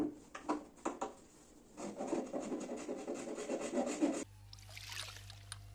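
A blade saws and rasps through a broken wooden chair, with scraping, rubbing strokes up close, a few sharp knocks at the start and then steady grinding before it abruptly cuts away to a different, quieter background.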